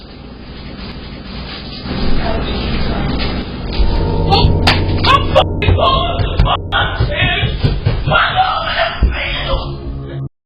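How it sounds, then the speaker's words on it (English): A boy screaming at the top of his lungs in recorded home footage, loud and harsh, with rough yelling bursts and shrill peaks that grow more broken and chaotic toward the end. "The video captures his screams"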